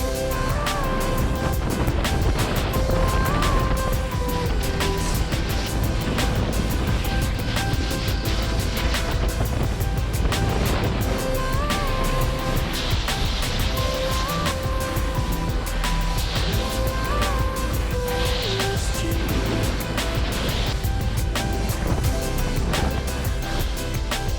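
Snowboard riding down the Guraebo slope at Wellihilli Park ski resort, a constant loud rushing roar of wind and board scraping snow throughout, with no talking.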